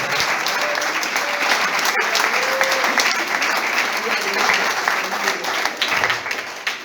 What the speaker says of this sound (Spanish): Aplauda al que vive.